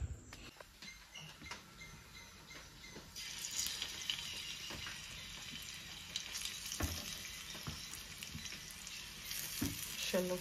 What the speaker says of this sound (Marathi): आता हे स्टीम करणार आणि मग शॅलो फ्राय करणार आहे याला.